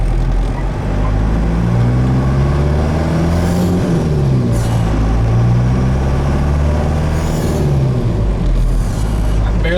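A Ford F150 pickup swapped to a 4BT Cummins diesel drives along under light throttle, its engine droning steadily and loud with low rumble and gentle shifts in pitch as it moves, no voices over it.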